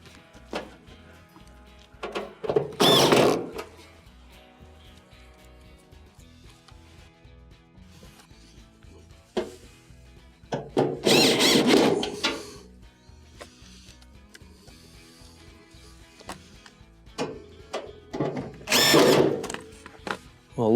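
Screws driven into a Maytag dryer console, three buzzing power-driver bursts, each a second or so long, close up, separated by quiet stretches with small clicks and handling noises.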